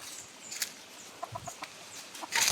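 A hen clucks while laying eggs on a farm, a short run of quiet, evenly spaced clucks ending in a louder burst, heard close with no talking.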